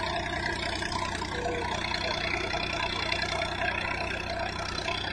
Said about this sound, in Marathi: लोड बघा कसा घेऊन चाललेला आहे ट्रॅक्टर.